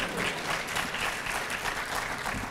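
Audience at a social enterprise symposium clapping steadily, a dense even wash of applause heard close and continuous for the whole moment.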